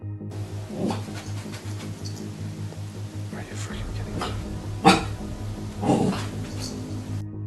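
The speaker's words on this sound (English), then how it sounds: "She growls and barks toward the wall, and at one point, she even steps back out of fear." A puppy growls and barks toward a wall, a few short barks standing out over a steady low background hum, close by.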